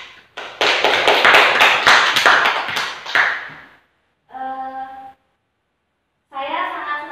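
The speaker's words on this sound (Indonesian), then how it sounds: "tepuk tangan untuk Hendra" A Grade 9 class claps for a classmate in a school lesson: a loud burst of rapid, overlapping hand claps lasting about three seconds, followed by a teacher's voice speaking.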